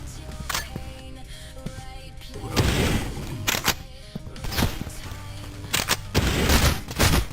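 Video game gunfire in a Terminus and Cultic session: repeated loud shots and bursts ring out in clusters over a steady game soundtrack, with heavier volleys near the middle and end.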